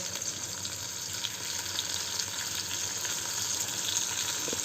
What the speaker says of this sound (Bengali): এখানে একটা মাছ ভেজে তুলে নিয়েছি আরেকটা দিলাম ভাজতে সময় নিয়ে ভাজছি